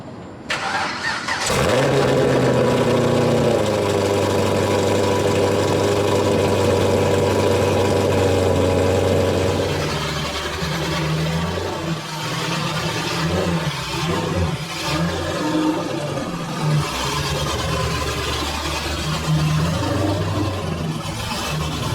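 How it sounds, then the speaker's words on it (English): A Chevrolet Camaro engine cranks and catches, then idles with a low, steady rumble, shifting to rougher, uneven running and light revving as the car is pulled into a garage, loud and close with no talk. "then we're going to pull the Camaro in"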